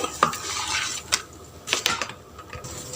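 A metal spatula scrapes and clinks against a pan while a wheat adai dosa is lifted onto a plate, giving several sharp close taps and scrapes with no talking.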